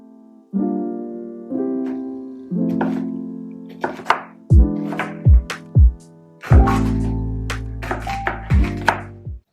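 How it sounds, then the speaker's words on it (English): A knife chops vegetables on a cutting board in bursts of rapid, close, loud knocks, with some separate heavier thuds between runs and no talking. "I just finished chopping all of my veggies"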